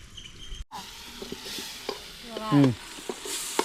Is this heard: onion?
yes